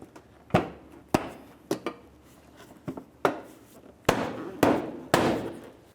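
A replacement headlight on a 2007-2012 Nissan Sentra is knocked into place with a series of sharp, hard bonks, about eight close impacts at uneven intervals, some doubled, with quiet between them.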